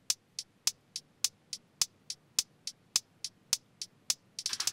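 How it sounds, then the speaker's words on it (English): A hi-hat drum loop from a music production ticks in a steady, evenly spaced rhythm of bright, crisp hits, ending in a short rapid flurry, heard alone and fairly clear. "we got this first hi-hat loop."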